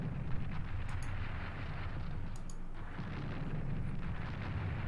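Artillery in a World War I strategy game fires on enemy units, heard as muffled, rumbling booms and explosive bursts under a low, continuous battlefield roar, with a couple of sharp pops.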